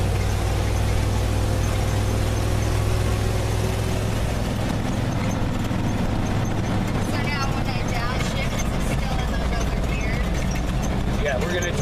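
A 1959 Chevy Viking 60 truck drives along with a steady low engine drone, loud and close, and the cab rattles and squeaks throughout. Voices talk over the noise.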